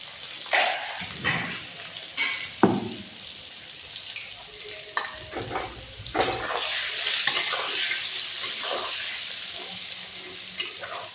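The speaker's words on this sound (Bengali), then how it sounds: "মাছ ভাজার তেলে বেগুন অল্প করে ভেজে নেব।" Eggplant frying in oil left over from frying fish, a continuous close sizzle broken by repeated spatula scrapes and light clatter against the pan.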